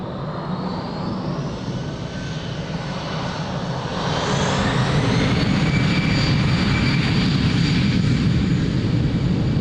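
An airplane takes off from runway 02 at Lisbon Airport, its engine roar swelling sharply partway through and then holding loud and steady.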